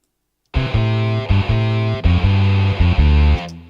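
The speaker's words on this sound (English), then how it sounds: "The distortion is not bad though" A distorted electric instrument plays a loud, sustained riff with strong harmonic chords, starting after a brief silence and running in short repeated phrases at a live session.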